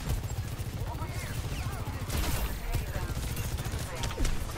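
Overwatch 2 gunfire crackles in dense, overlapping bursts amid busy match noise, loud and close, while a player talks over the action.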